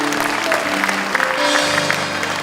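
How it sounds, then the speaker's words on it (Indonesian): A church congregation claps in praise to God, a dense, steady wash of applause filling the room, with music or voices faintly underneath. "Boleh kita beri tepuk tangan yang terbaik bagi Tuhan."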